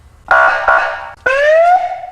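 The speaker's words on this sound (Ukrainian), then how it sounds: "сирена, яку чутно, мечки, які видно, і гучномовець" An ambulance siren gives two loud electronic wails, the first holding steady and the second sweeping upward, each lasting under a second, close by and with no voices.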